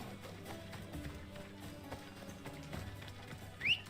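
A horse gallops in Assassin's Creed Odyssey, steady rapid hoofbeats under a low game music bed, ending with a brief sharp effect.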